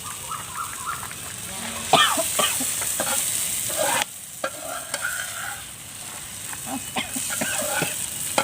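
Oil sizzles and crackles in a wok for a crocodile meat basil stir-fry, loud and close, with stirring scrapes and bursts of spitting over a steady frying hiss.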